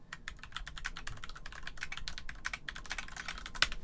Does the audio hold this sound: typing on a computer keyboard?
yes